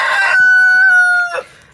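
A loud, close rooster crows once on a garden farm, a long sustained cock-a-doodle-doo that opens on a sharp cluck and breaks off into a short squawk, with nothing else sounding.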